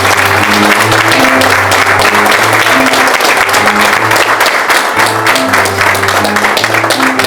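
A church congregation gives loud, sustained applause welcoming a visiting pastor, with dense clapping throughout and steady chords of music playing underneath.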